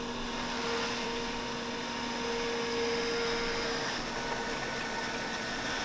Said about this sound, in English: The coolant pump, which is right there, making a little whining noise.